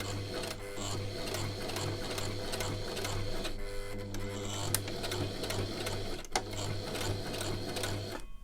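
A sewing machine runs a back stitch on a cloth face mask with a continuous motor hum and rapid needle clatter, steady and close.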